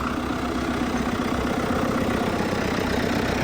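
An MTZ tractor engine runs steadily, loud and close, with a continuous low rumble that holds its level for the whole stretch and has no talk over it.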